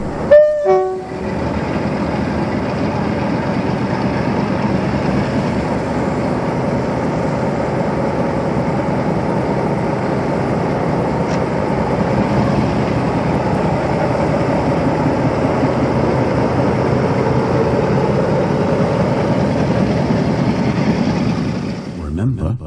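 A Lima Class 47 model diesel locomotive rumbles steadily for the whole stretch, a continuous engine drone with no voices.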